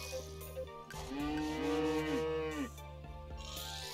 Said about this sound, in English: There's my cow.